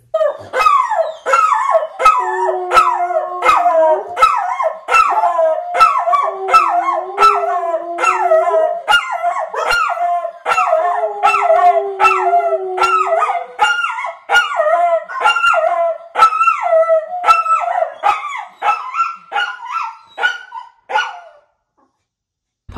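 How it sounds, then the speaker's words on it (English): Dogs howl and bark close by in a long run of rhythmic yips, barks and drawn-out wavering howls that carry on for about twenty seconds before trailing off. "this is them howling right now, this very minute"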